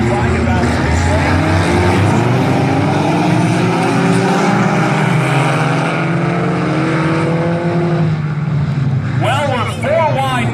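A pack of 4-cylinder race cars roars around the track at Valley Raceway, engines droning and rising in pitch as they run nearly four wide into turn one, loud and continuous with talk over it near the end.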